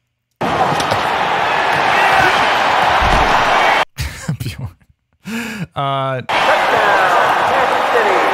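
Crowd roar from a Madden American football video game, a loud continuous wash of cheering that drops out briefly for a few thumps and tonal game effects before swelling back at full volume.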